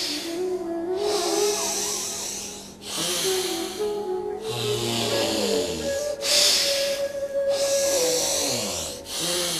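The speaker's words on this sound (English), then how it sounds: "Close the left nostril and exhale through the right." Forceful nasal exhalations during pranayama alternate-nostril breathing, heard as broad airy hissing bursts in a steady rhythm, close and clear over a soft sustained musical drone.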